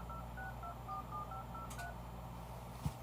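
A rapid string of telephone keypad tones beeps quietly in sequence, followed by a soft click, over a faint steady hum.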